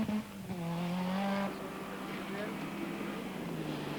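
A Mazda 323 rally car runs on an icy stage at the 1987 Norway Winter Rally, its engine note rising and falling as it passes, with a commentator talking over it.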